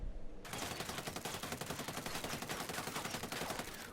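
Assault rifle fitted with a V4 foregrip firing in Ghost Recon Wildlands, a sustained rapid burst of close, loud automatic shots in even rhythm that starts abruptly and runs to the end.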